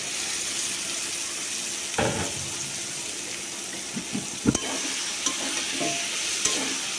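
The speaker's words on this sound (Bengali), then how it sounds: "শুটকিগুলা দিয়ে একটু কষাই নিই। ভালো করে আমি কষাই নিতেছি" Dried ghonia fish fries in a thick spice paste, a low steady sizzle under occasional scraping stirs and a few sharp knocks of the spoon against the pot, close by, with no voices.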